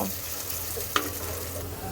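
Potatoes frying in a pan for a magur fish and potato curry, a steady close sizzle with one sharp stirring clink partway through and no voices.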